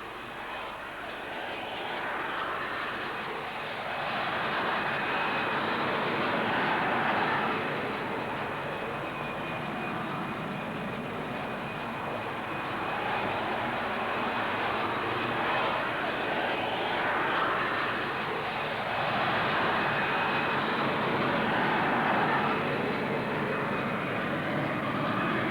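A VTOL jet fighter with a Pegasus engine and rotatable thrust nozzles roars steadily at a 1960s Farnborough airshow, a continuous loud jet rumble and whine with slow swells in intensity.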